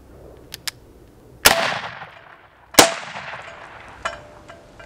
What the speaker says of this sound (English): Next up is the Winchester 3030 model 94, and we're shooting 150 grain power point.